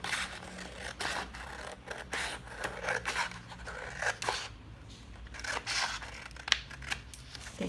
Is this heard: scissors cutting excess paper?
yes